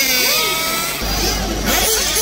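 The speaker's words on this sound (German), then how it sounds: "Jetzt werden die Motoren warm gefahren, ja? Bevor es überhaupt auf die Strecke geht." Several nitro-powered 1/8-scale offroad RC buggy engines warm up together, producing a loud, continuous high-pitched buzzing whine that rises and falls in pitch as the throttles are blipped, with no break throughout.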